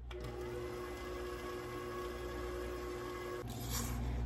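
An electric stand mixer fitted with a paddle churns cookie dough on low speed, a steady quiet motor hum with a faint shift near the end.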